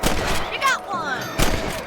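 Rifle gunshots in Red Dead Redemption, two loud sharp cracks about a second apart, the first followed by fading ricochet-like tones, with faint speech between.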